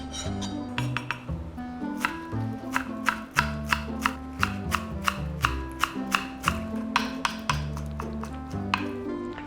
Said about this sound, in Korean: 송송송 썰어서 준비할게요.